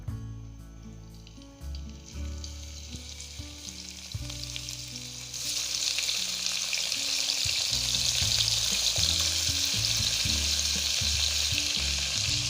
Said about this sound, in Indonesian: Lalu kita akan menumis cabai, bawang merah, bawang putih, jahe, dan tomat ya